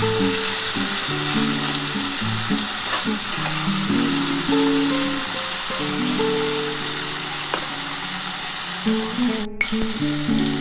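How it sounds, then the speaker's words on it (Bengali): Potatoes frying in a pan, a loud, continuous sizzle with crackling oil and occasional stirring, steady for the whole stretch with no voices. "আমার কিন্তু আলুটা মোটামুটি ভাজা হয়ে এসছে"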